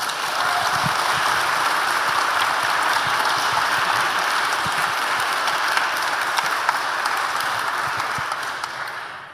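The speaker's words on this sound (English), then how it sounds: "May I ask you to welcome them tonight with a round of applause" Sustained applause from a large audience at an evening literary event with authors Jennifer Egan and Sheila Heti, a dense, steady wash of clapping that holds level for about nine seconds before starting to fade.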